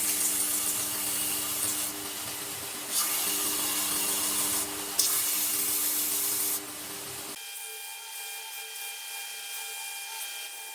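Resin for a Damascus steel kitchen knife handle being ground down to reduce its thickness, a steady abrasive rubbing hiss running continuously for several seconds before cutting off into a quieter hum.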